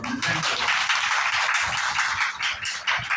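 A gathering of mothers claps loudly in a class, a dense continuous patter of many hands that stays strong for about three seconds with little else heard.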